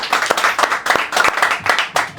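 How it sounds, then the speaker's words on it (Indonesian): Audience clapping at an Indonesian stand-up comedy night, a short burst of dense, steady applause with uneven hand claps, filling the room at close range with no talk over it. "tepuk tangan, terima kasih"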